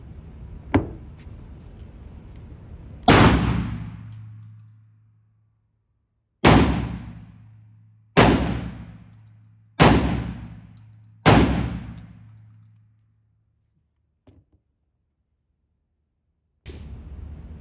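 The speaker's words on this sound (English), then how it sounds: "I'm gonna lead off with one slug so you can see the hole, and I'll follow it up with the buckshot." An Emperor Mogul 12-gauge shotgun fires a slug and then buckshot, giving five loud, close blasts with echoing tails. One lone shot is followed by four quicker ones, with another starting at the very end.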